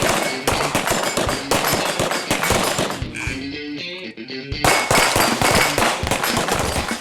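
Rapid pistol gunshots ring out at a shooting match, sharp loud cracks in quick strings, broken by a short pause with a metallic ring before another fast burst resumes.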